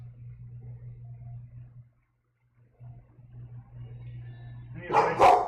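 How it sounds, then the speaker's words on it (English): A dog barks loudly in a short burst close by near the end, following a steady low hum and a brief silence indoors. "she likes to bark and be really loud"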